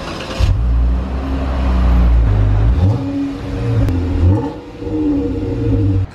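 A van's engine starts right up, then revs loud and close through several rising and falling sweeps, rough and uneven, with nobody talking.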